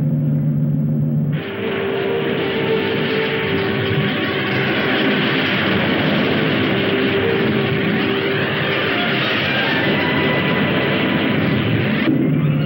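Spacecraft engines run in a science-fiction film, a loud, dense roar that surges in after a second of quieter rumble, holds steadily, then cuts off abruptly near the end.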